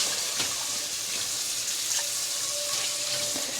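Tap water runs steadily into a pan for a rinse after cooking a carnivore breakfast, a constant close hiss and splash with a few brief clinks and no talking.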